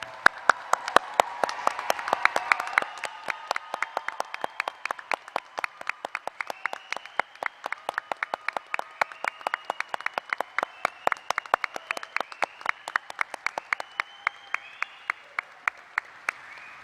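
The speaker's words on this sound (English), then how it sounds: "Let's give you another round of applause" Audience applause at a 2021 law school hooding ceremony, a dense round of clapping that gradually thins out into sparse, distinct individual claps over the final seconds.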